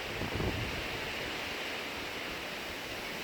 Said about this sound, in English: Outside is a bit windy, but I hope you'll be able to hear me.